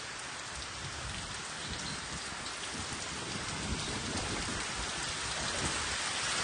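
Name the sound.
heavy rain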